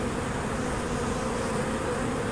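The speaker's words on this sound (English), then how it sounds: "and here come the bees" Dense, continuous buzzing of many honey bees pouring out of a shipping package during installation, loud and close, a steady swarm drone without any talking.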